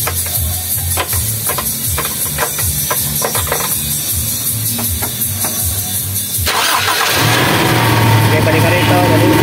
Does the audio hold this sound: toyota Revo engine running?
yes